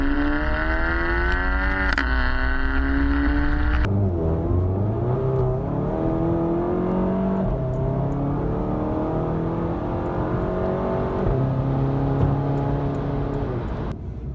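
Volkswagen Golf GTI MK7 with a Stage 2 Stratified ECU flash tune pulls hard in sport mode, engine note climbing through the revs, a sharp gear change, then rising again; loud, close and continuous.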